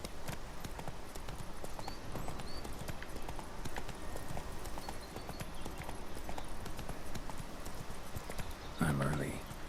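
Steady clip-clop of a horse's hooves galloping in The Witcher 3 video game, a continuous quick rhythm at low level beneath ambient game sound, with a brief voice near the end.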